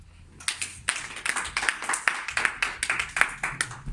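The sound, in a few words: congregation clapping to acclaim Jesus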